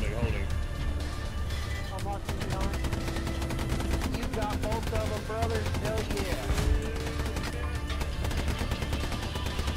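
Rapid machine-gun bursts and gunshots crackle loudly and almost continuously in a World War II battle in the game Hell Let Loose, with tank-crew chatter and shouted voices over the gunfire.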